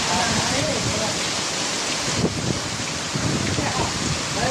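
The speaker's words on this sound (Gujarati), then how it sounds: "જોઈ શકો છો વરસાદ કેટલો બધો આવે છે." Heavy rain pours down in a loud, continuous, dense hiss that stays close and steady throughout.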